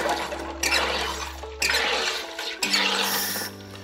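A home sparkling water maker carbonating tap water: four sharp pressurized hissing bursts, one per button press, each loud and then tapering, with a low mechanical hum beneath.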